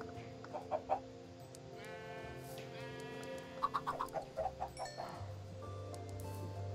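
Chickens breeding in a survival video game, with short repeated clucks and bleat-like animal calls in two clusters over a steady droning game backdrop, fairly quiet.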